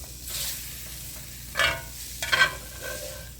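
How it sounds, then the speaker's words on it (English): Flour cooks in a pan for Salisbury steak gravy, giving a soft, low sizzle broken by a few brief scraping stirs, quiet and close. "I'm going to let it cook for a minute just to get the flour cooked through a little"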